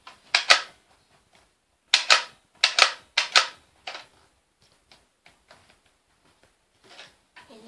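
Sharp gunshots crack during target shooting, a quick cluster of close reports followed by a few spaced single shots and then quieter handling clicks.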